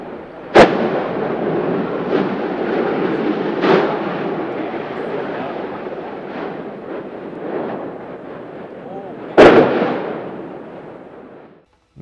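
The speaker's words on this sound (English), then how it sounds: "these areas that are producing tremendous explosions can be heard from as far as Hilo" Deep, booming volcanic fissure explosions go off at intervals during the 2018 Kilauea eruption, two sharp loud ones and several softer thuds over a continuous low roar.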